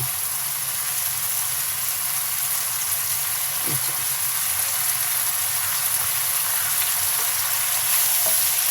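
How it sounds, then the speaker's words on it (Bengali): Beef kidney frying in a pan after a little water is added, giving a loud, steady sizzle close up with faint stirring and no talking. "আমি একটু পানি দিয়ে দিচ্ছি কারণ হলুদ মরিচের গুঁড়া দেব সেজন্য"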